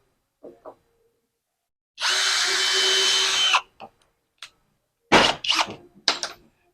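A power drill spins a fastener bit while mounting a wall plant holder: a single steady, fairly loud whir of about a second and a half, preceded by small taps and followed by several sharp knocks and clattering handling sounds, with no talking.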